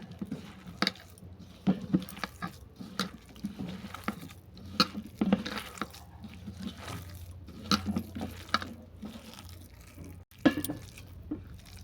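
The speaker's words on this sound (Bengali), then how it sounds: "চিকেন মশলা আর গরম মশলা এইসব উপকরণ আমি একসঙ্গে মেখে নেব" Wet, squelchy patting and squishing as chopped banana flower is hand-mixed with chicken masala and garam masala for fritters, close and fairly quiet with irregular soft slaps and no talking.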